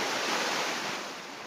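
Sea waves wash onto a beach in Oman, a steady, loud rush of surf with broad hissing spray that eases slightly toward the end, with no voices.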